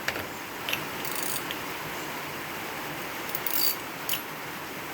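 A ratchet turns an 18 mm socket to remove the heavy brass valve from a gas grill, making a steady run of quick, close clicking with a few louder clacks.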